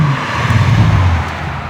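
A 2012 Bentley Continental Supersports ISR with a 12-cylinder engine accelerates with a deep, loud, close engine roar that rises briefly then eases off, heard from inside the car.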